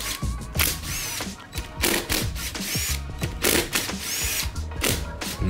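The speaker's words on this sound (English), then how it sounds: "I'm now finally removing all the bolts for the case. There's a bunch of them, and I'm just using drill for all of them." A power drill removing engine case bolts from a Suzuki RM250 two-stroke dirt bike, a close busy whirring and rattling with repeated bursts and clicks as one bolt after another is spun out.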